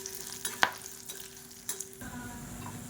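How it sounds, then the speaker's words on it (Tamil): Quiet sizzling of dried red chillies frying in oil in a pan over medium heat, with a few light stirring scrapes and clinks; no talking. "சேர்த்துட்டு நல்லா வதக்கி விட்டுக்கலாம்"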